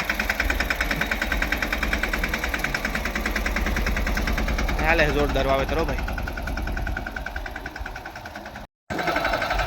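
A new tractor engine chugs steadily nearby while sowing in a field, a continuous rhythmic mid-pitched rumble with someone speaking briefly over it and a momentary dropout near the end.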